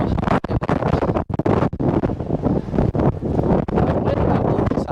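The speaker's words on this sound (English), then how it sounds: "That's not a wobble, that's the wind." Strong wind buffets the microphone on a spring bike ride in Missouri, a continuous loud rumbling roar with gusty surges and brief dips, no voices.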